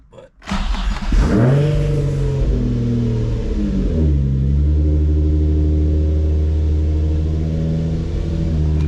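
An Infiniti G35 engine cranks and fires, quickly rising into a loud rev before settling back to a deep, steady rumbling idle, close and alone with no talking.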